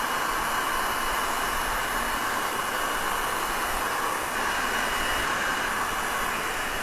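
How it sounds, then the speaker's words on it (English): A heat gun blows steadily while shrinking window tint film on a Tesla, a constant loud, broadband roar of rushing hot air with no break throughout. "then I'm going to use the heat gun to work up."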